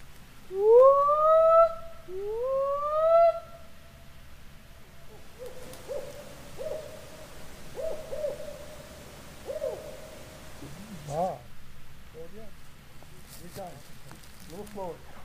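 Two loud, close, rising owl hoots open the scene, followed by fainter hoot-like calls under scattered voices at night.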